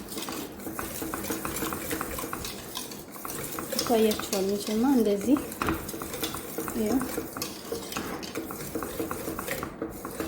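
A spoon scrapes and clinks around a pot while a home cook mixes an ingredient into it, with steady stirring sounds under a woman's speech.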